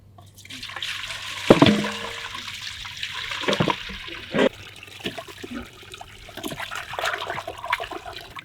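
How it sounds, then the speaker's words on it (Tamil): Four cleaned goat heads rinsed in water at an outdoor village cooking spot, with sloshing, pouring and splashing bursts, trickles and drips over several seconds at moderate volume, no speech. "இப்போ அலசி எடுத்துக்க போகிறோம்."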